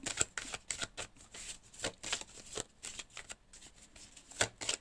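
Tarot cards being shuffled by hand in a quick series of crisp riffling bursts and soft flicks, close and fairly quiet.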